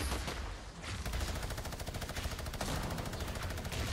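Rapid machine gun fire from the video game Fortnite rattles on continuously in fast, even bursts, loud and close, with no talking over it.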